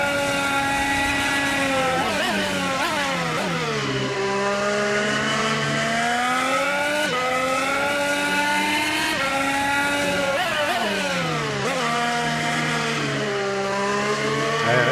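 A racing car engine in a racing game on the Nordschleife, loud and close throughout, with the pitch climbing and dropping repeatedly through gear changes and corners, and no talk.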